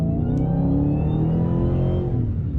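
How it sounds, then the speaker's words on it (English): A Dodge Challenger Hellcat with a cold air intake runs at wide open throttle, a loud, close engine roar sweeping upward in pitch over a short burst. "We're gonna do a wide open throttle here."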